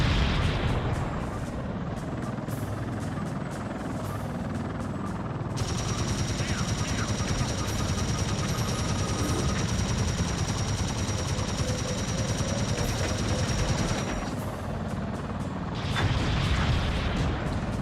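A video game plays continuous missile fire and explosions in a dense roaring barrage, with a sustained tonal whine layered over the middle stretch before the blasts carry on alone.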